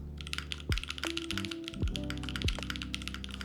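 Brief burst of fast typing on a Freebird75 mechanical keyboard with long pole switches, crisp clustered keystrokes close up over a low hum.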